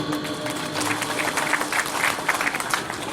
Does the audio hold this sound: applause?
yes